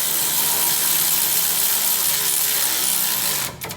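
Milwaukee power tool spinning out caliper bolts during a Toyota Land Cruiser front brake job, a loud, continuous high-pitched whir close by that cuts off abruptly near the end.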